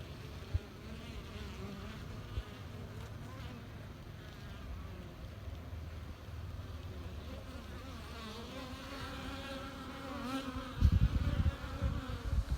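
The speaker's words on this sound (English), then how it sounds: "You get a little sunshine out and these bees get to moving just like the rest of us do." Honeybees swarm and buzz around their hive on a sunny late-December day, a steady dense drone of many insects close by with no talk, growing louder near the end as bees pass the microphone.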